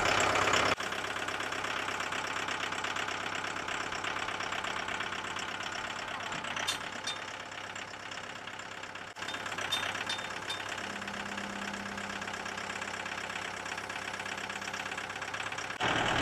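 A Mahindra compact tractor's engine runs steadily at idle, a close, continuous mechanical drone with a brief dip partway through and a slight change in tone near the end, with no talk.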